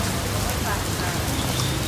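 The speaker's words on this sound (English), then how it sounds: "The rain is so bad." Heavy rain pours down on a flooded Bangkok street as a dense, continuous roar of drops striking the surface, loud and close throughout.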